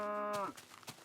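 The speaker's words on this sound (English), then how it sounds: "Loud cow." A cow in a video game lets out one loud, close moo that ends after about half a second, followed by quiet scattered clicks and rustles.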